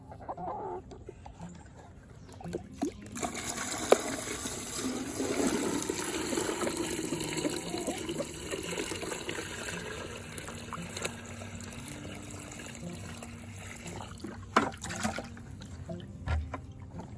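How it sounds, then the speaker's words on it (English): Water pours and sloshes as a chicken waterer is filled in a homestead coop, while hens cluck nearby; the liquid sound rises in the middle, and occasional knocks come near the end. "And then there's their water. I'll go fill that up."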